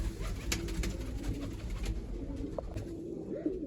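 Low cooing comes from pigeons kept in coops while flying birds are separated from larger ones. A continuous throaty murmur runs under light scattered clicks and rustles, with a short rising coo late on.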